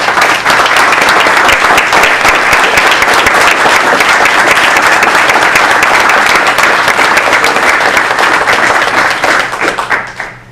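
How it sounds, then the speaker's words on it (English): Loud, sustained applause from an audience at a Monterey Bay Community Power public meeting, dense clapping holding steady for about ten seconds before tapering off at the end. "let's give them a round of applause"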